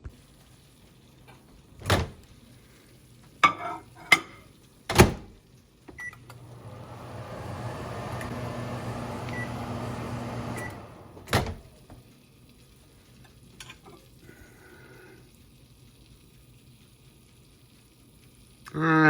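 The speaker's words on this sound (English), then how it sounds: "Microwave. 15 seconds." A microwave oven hums steadily for several seconds heating tacos under a wet paper towel, bracketed by sharp clicks and beeps of the door and buttons, with quiet surroundings.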